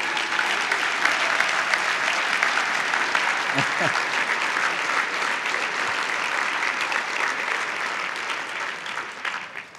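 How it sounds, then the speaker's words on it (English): Audience at a tribute dinner applauds in a sustained, dense round of clapping that stays loud throughout and tapers slightly at the end, with a few faint voices beneath. "How about a round of applause for them?"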